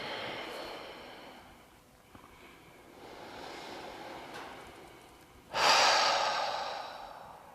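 Slow, heavy breaths during a morning yoga session, drawn in through the nose and pushed out through the mouth, close and breathy, the last exhale loudest, with no talk.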